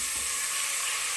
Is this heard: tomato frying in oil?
yes